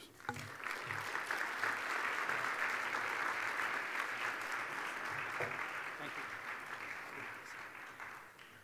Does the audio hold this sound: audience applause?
yes